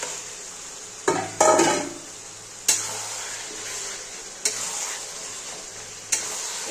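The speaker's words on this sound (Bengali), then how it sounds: "এবার আমি মাংসগুলো দিয়ে দেব।" Mutton pieces dropped into a pan of fried spice paste hiss and sizzle steadily, with a few sharp scrapes and clanks of a spoon stirring against the pot, close and fairly loud.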